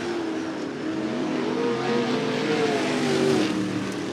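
Limited sprint cars roar around Cottage Grove Speedway in a feature race, a sustained loud engine drone with rising and falling pitch as the lead battle passes through turns one and two.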